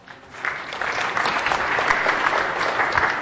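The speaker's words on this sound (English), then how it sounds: "Excellent. Big round of applause." A business seminar audience breaks into applause, the clapping starting softly, then swelling into a full, steady patter that carries on for a few seconds without talk.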